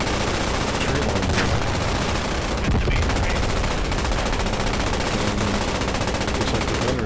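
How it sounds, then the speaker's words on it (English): Rapid bursts of machine-gun fire and scattered gunshots crackle continuously in the WWII shooter Post Scriptum, loud and dense throughout with no talking. "Shots already being fired by the Panzer on the road."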